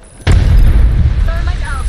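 Grenade blast in the battle royale shooter Apex Legends, a sudden loud boom that rolls into a sustained rumble lasting nearly two seconds, with faint game tones overhead.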